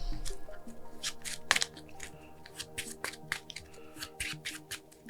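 Rapid papery riffling bursts of cards being shuffled, repeated several times close up, with soft taps and clicks between them, during a tabletop card game.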